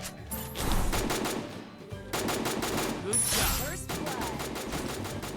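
Rapid automatic gunfire bursts in a first-person shooter video game, loud and repeated in several long volleys, with game sound effects and someone talking over them.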